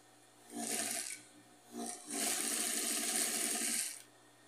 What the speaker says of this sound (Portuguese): Vou costurar ele aqui.